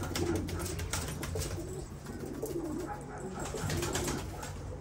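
Low, throaty pigeon coos repeating in Marrakech, Morocco, over a steady background of rustling and ambient noise, moderately close.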